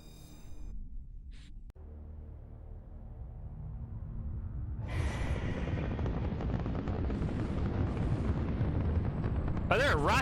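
Explosions and weapon fire from the video game Mass Effect 1 Legendary Edition, a sudden loud roaring blast that builds into sustained rumbling and crackling, with brief sharp bursts near the end.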